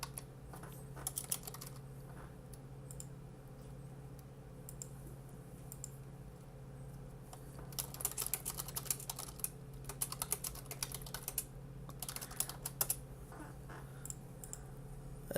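Someone types a message on a computer keyboard, with faint, quick bursts of key clicks separated by quiet stretches, the busiest flurry coming in the second half.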